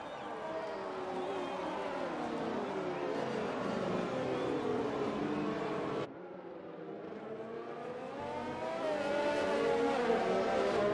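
Race cars in a Hungarian GP round of a racing video game hold a steady, continuous engine drone that drops briefly, then rises again as the pack keeps circulating. Nobody speaks.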